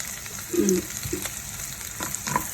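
Chopped onion and garlic sizzle in a pan as the base for pork adobo, a soft steady frying hiss with a few louder crackles and scrapes of stirring.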